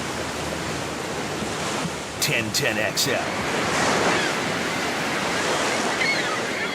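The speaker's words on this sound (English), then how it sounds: "Radio waves sound great when you're next to ocean waves." Ocean surf rolls and hisses as a steady, loud wash beneath a radio station jingle, with a short burst of voice and clatter partway through before the waves swell again.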